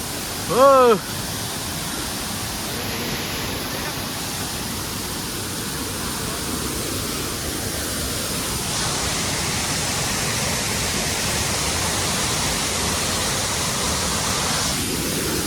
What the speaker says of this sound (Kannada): ಫಾಲ್ಸ್ ನನ್ನ ಕಣ್ಣು ಮುಂದೆ ಫಾಲ್ಸ್ ಇದೆ